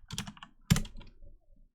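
Fingers tap a computer keyboard in a few close, uneven keystrokes, one sharp clack standing out midway, with no talking.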